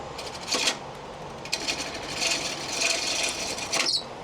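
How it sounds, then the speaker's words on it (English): A carbide tool trims burnt wood on a spinning lathe down towards the base of a lamp blank, producing a continuous scraping, rasping hiss with a few louder catches, close and steady. "Now bring out the carbide to help trim down towards the base."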